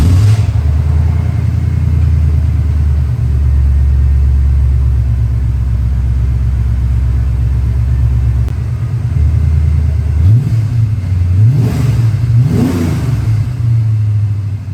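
A 5.0 Fox Mustang V8 fitted with smaller silencers, loud and close: a long steady deep idle rumble, then several sharp revs rising and falling in quick succession.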